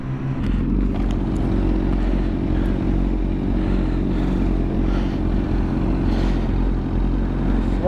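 A motorcycle rides along a highway toward Tokyo, its engine droning loud and steady with a constant low hum and rushing wind, holding an even pace with no pauses.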